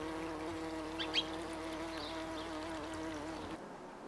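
A steady, low bee buzz hums throughout, with a few faint brighter flickers, outdoors in a wildlife garden among clover and bird's-foot trefoil, fairly quiet.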